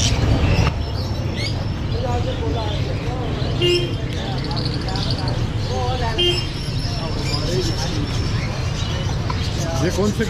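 Pigeons coo and flutter amid a busy pet market in Rawalpindi, with people talking and chattering throughout and faint traffic noise behind.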